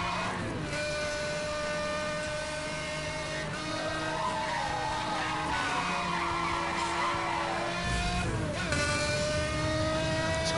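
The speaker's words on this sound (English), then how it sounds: "Like, name another racing game where a car sounds this good." Racing car in Need for Speed: Hot Pursuit Remastered, engine revving and shifting through gears with tire skids and squeals, loud and continuous for about ten seconds with no talking.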